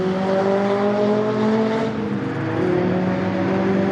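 750 Motor Club sports specials and Mazda race cars at Silverstone circuit roar loud and close onto the Hangar Straight, a sustained engine drone with rising pitch as they accelerate past.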